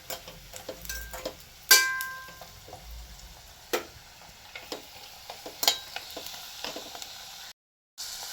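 Light sizzling and stirring of ginger and spices frying in a pan for ginger chutney, with scattered clinks and scraping taps over a low frying hiss; no voices.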